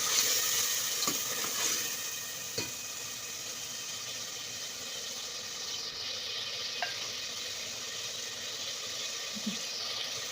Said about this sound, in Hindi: पहले हम गोश्त को अदरक लहसुन में फ्राई करेंगे